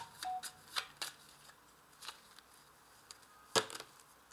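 Playing cards from a 32-card deck being handled and shuffled during a tarot-style reading, giving sparse, quiet crisp riffles and flicks with a louder burst near the end, no talking.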